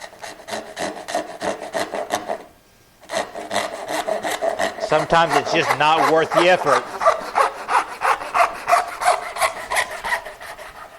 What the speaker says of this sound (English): I will draw the line and then saw the line.